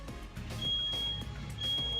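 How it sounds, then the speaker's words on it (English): Repeated high electronic beeps ring out, a sustained tone returning twice over a low rumbling background. "Who is beeping? The beeping. Does anyone else hear that?"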